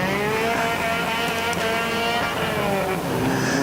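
Demolition derby cars race while towing trailers, a loud, continuous roar of several engines up close with shifting, overlapping revs.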